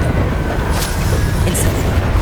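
A Confringo spell blast in Hogwarts Legacy: a loud, dense, booming burst with heavy low rumble and brief crackling flashes, lasting a couple of seconds and sounding close.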